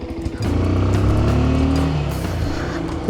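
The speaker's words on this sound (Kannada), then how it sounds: "ಎಕ್ಸಾಸ್ಟ್ ನೋಟ್ ನಿಮಗೆ ಕೇಳಿಸ್ತೀನಿ." A 2026 Bajaj Pulsar 150 motorcycle's exhaust note rises from idle into a loud, steady revving drone close by, holding for a few seconds with no talk.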